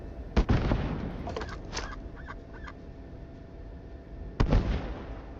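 Video game sound effects: a sharp quack-bang explosion bursts loudly, followed by scattered quacking and clattering sounds, then a second bang near the end.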